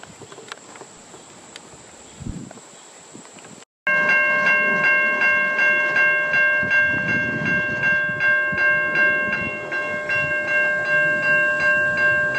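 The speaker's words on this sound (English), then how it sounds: "Our first catch here is train 1716 traveling to Hoboken on the return trip from Suffern." Commuter train 1716 bound for Hoboken passes close by, led by a Comet 5 cab car with an ALP-45DP locomotive. A loud, rhythmic rumble of wheels and cars follows after a quiet stretch with insects chirping.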